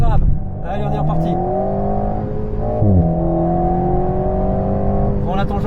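An Alpine A110 S engine on a driving track rises steadily in pitch through a long, loud acceleration with a brief gear change, and a coach's voice talks over it at the start and end.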